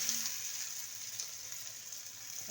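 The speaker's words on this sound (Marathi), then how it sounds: "आता हे तूप गरम झालंय चांगलं त्याच्यामध्ये हा भोपळ्याचा किस घालूया" Grated pumpkin fries in hot ghee, giving a steady, soft, continuous sizzle with a bright hiss throughout and no voices.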